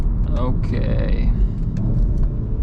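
A 2014–2019 VW Golf 7 R estate heading onto the autobahn, steady low engine and road rumble from inside the cabin with someone talking over it.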